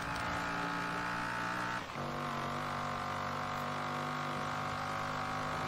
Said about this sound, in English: I hate this, that this car's exhaust sounds like a fart cannon.